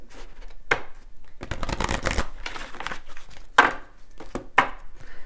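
Angel oracle cards being shuffled by hand: a series of crisp riffling bursts and sharp flicks, close and clear, with no talk.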